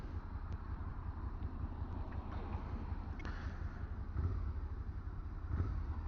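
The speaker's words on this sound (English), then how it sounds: "I do love the sound of V-twins." A Suzuki SV650 V-twin motorcycle idles while waiting at a traffic light, giving a steady, close low rumble mixed with wind buffeting on the microphone and a couple of slightly louder swells near the end.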